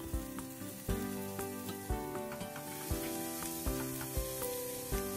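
Garlic, onion and carrots sautéing in a pan for a meat sauce, giving a steady sizzle with regular clinks of a utensil against the pan, heard alone at moderate level.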